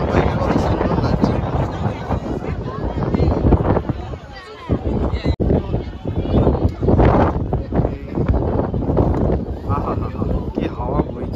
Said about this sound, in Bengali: কি হাওয়া বইছে